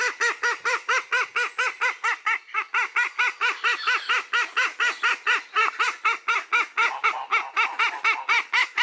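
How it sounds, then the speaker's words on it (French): A flock of geese honks continuously, loud and close, with rapid overlapping calls in a steady rhythm throughout. "Et là, j'ai mes oies."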